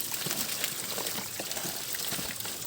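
Spring water trickling steadily, a soft continuous splashing stream heard close by with no talking.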